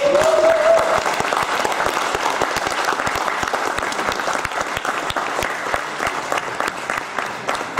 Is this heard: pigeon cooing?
no